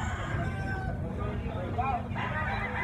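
A rooster crows faintly in the distance of a gamefowl yard, one drawn-out call rising under murmuring background voices and low ambient rumble.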